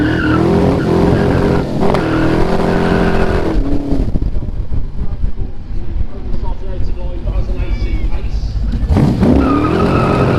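A loud replica supercar brakes hard with tires squealing and skidding over several seconds. Its engine roars and revs around the skid, and someone talks over part of it.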